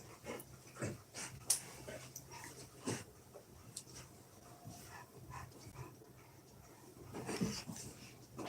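Oliver, a pet dog, shuffles about nearby in a quiet room, making soft scattered thumps and clicks with light panting and faint whimpers.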